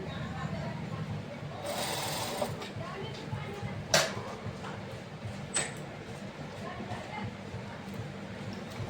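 A sewing machine stitches the sleeve of an elastic frock in short whirring runs with a few clicks and knocks between them. A person talks quietly throughout.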